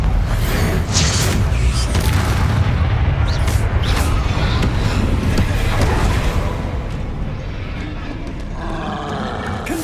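Bombarda explosion spell in the Hogwarts Legacy video game, a loud sustained booming blast with rumbling low end and crackling debris that slowly fades, with some voice-like sound mixed in.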